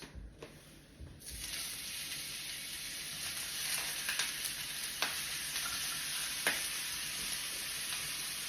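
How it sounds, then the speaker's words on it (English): Red hot links sizzling in a thin layer of oil in a pan, a steady bright hiss that holds throughout, with a few faint clicks and scrapes of handling, no talking. "You just basically want to have a little bit of oil on your pan so that you can get a good sear on your hot links."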